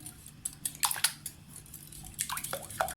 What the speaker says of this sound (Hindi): अब हम इसको इस तरह से बीटर की मदद से इसको हम फेंट लेंगे।